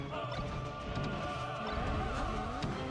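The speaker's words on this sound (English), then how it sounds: "MOF down smashes HT" Down smash hit in Super Smash Bros. Melee, a sharp impact burst amid dense tournament crowd noise and game effects, with several smaller hits following.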